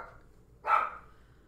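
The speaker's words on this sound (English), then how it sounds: "And my dogs are having a little meltdown." A dog gives a single short bark indoors, moderately loud and slightly distant, with quiet room tone before and after.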